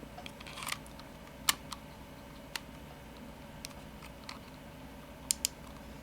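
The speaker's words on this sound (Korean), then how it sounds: "다시 이제 누르면 찰칵 소리와 함께 걸리게 되어 있습니다" Small, sharp clicks from a memory card being pressed into the slot of a POWERUCC PANORAMA II Full HD LCD dashcam, several isolated ticks scattered over quiet background hum.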